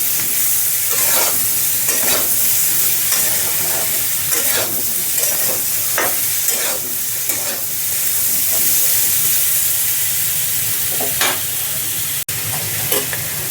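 Turmeric and salt frying in a pan for a Bengali paneer vegetable dish: a loud, continuous sizzle with repeated scraping stirs of the spatula throughout.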